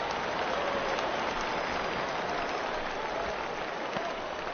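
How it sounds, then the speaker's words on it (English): Steady rain pouring onto a baseball field during an MLB The Show 19 game between the Phillies and Blue Jays, a dense, even hiss of falling drops that continues unbroken, with no voices. "I don't know how much more rain this field can take"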